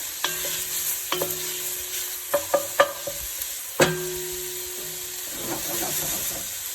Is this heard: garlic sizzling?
yes